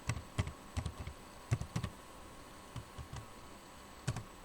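Typing on a computer keyboard while writing a Python program, heard as irregular clusters of sharp, close key clicks with short pauses between bursts and no voices.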